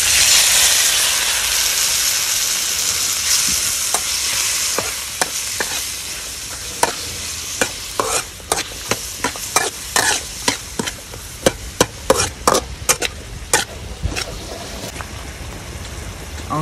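Dried clams sauté with shallot and a splash of water in a hot pan: a loud steady sizzle and steam hiss at first, then a long run of sharp, quickening scrapes and clacks of a utensil stirring against the pan.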